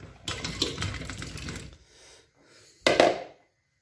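Potatoes going into a pot of water on a stove while cooking fish roe with potatoes. Running water and splashing are heard, then a pause, then one short splash.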